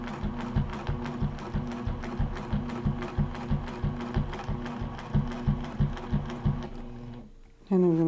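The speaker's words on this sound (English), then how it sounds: "I'm going to stitch right into that corner nicely." A sewing machine stitches in the ditch along the seams of a log cabin quilt block, running as a steady, rapid, close mechanical chatter of regular needle strokes that stops near the end, followed by a brief whir.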